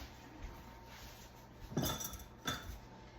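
Cornbread batter made with buttermilk is stirred in a bowl, giving a soft scraping swish and a couple of distinct clinks of utensil against the bowl, with no talking.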